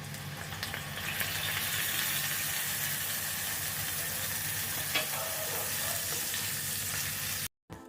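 Onion, ginger and garlic paste frying in a pan over low to medium flame for a cauliflower korma, a steady dense sizzle that holds close and loud throughout before a brief dropout near the end.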